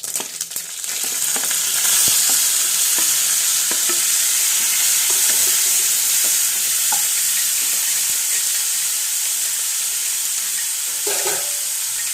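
Mustard seeds frying in a pan give a broad, continuous sizzling hiss, close and loud, with scattered small pops and the odd scrape of a stirring utensil, no voices over it.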